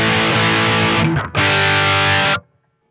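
Electric guitar run through a JHS AT+ drive pedal with its Air control turned fully up, giving a bright, dense, sustained distorted chord, cut off briefly near the middle, then ringing again before stopping abruptly, played alone.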